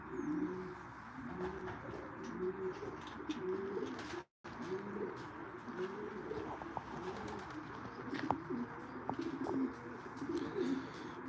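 Racing pigeons coo steadily at their loft, a dense overlapping chorus of low burbling calls that runs throughout, with occasional chirps and a brief wing flutter mixed in.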